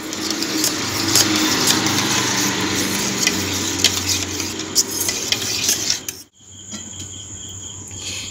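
Powdered milk is stirred into water with a spoon, a steady close scraping and swishing with light clinks against the vessel, running continuously before a brief pause and resuming; a faint insect-like hum sits underneath.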